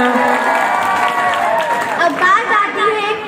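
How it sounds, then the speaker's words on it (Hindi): An audience at a school annual function applauds, with clapping mixed with crowd chatter and voices, moderately loud and fairly close. "जोरदार तालियां।"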